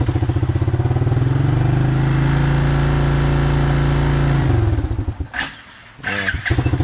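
A Toro LX427 lawn tractor engine runs loud and rough at close range with a steady buzzing drone, then sputters and cuts out near the end as it struggles through a startup.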